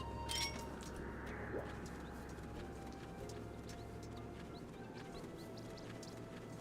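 Birds cooing in the video game Skyward Sword, soft repeated coos over a steady game ambience with faint music, no talking.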